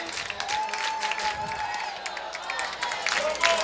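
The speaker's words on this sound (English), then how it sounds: "Seems like this crowd's into this play." High school football crowd at Pensacola High versus Booker T. Washington, a steady wash of cheering and clapping in the stands, far-off and sustained, swelling slightly near the end, with a commentator talking over it.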